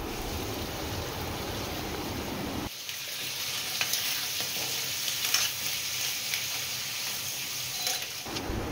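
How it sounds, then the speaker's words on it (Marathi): Crab pieces stir-fried in a pan for a Maharashtrian crab curry, giving a loud, steady sizzle with scraping stirs that jumps up after a couple of seconds and runs continuously, with no talking. "पॅनमध्ये टाकूया आणि परतून घेऊया"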